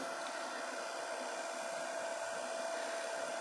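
A heat tool blows steadily to melt embossing powder on a crafted birthday tag, a continuous airy whoosh like a small hair dryer, close and constant with no talking.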